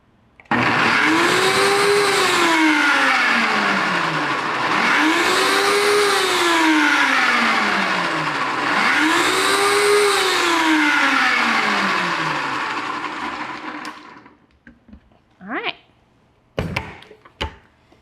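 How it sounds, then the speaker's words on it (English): A high-powered blender whirs loudly while blending a Dijon dressing, its motor pitch rising and falling in three long surges before cutting off, followed by a few brief clatters. "So we're just gonna blend that up real quick."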